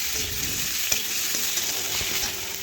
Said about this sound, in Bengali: একটু ভেজে নেব আলুগুলো।